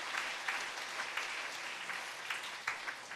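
A church congregation at a Sunday evening worship service claps together in steady applause, a dense rattle of many hands sounding from across the room for a few seconds, with no talking.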